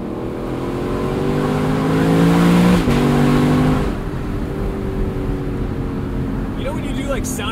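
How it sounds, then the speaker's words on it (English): A 2022 Lexus LC 500 Convertible engine revs loudly while driving, a rising then falling growl that swells to a peak and drops off abruptly, settling into a steady cruising drone with people talking over it. "It really makes like the sound effect a kid makes when they're describing what a car sounded like."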